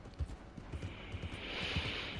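Horse hooves clip-clopping in a steady rhythm while riding in Red Dead Redemption 2, fairly faint over a soft background wash.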